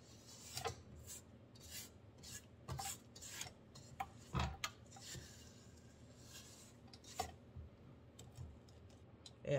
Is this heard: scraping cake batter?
yes